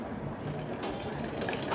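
A sewing machine stitches a blouse, its steady mechanical whir running close and continuous through the short stretch with no pauses.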